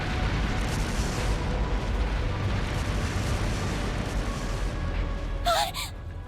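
Explosions in the video game Trails through Daybreak, a dense rumbling, booming wash that fills the clip, with a brief sharp burst near the end.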